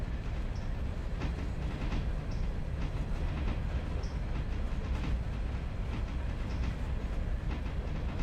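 A train running in the railroad video game Railroader: continuous low rumble of rolling wagons with faint rhythmic clicks and occasional squeaks, steady and moderately distant with no talk.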